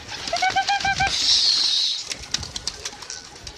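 Pigeons on a rooftop give a quick run of short, evenly spaced calls, then a loud rush of flapping wings. A few light taps and rustles follow nearby.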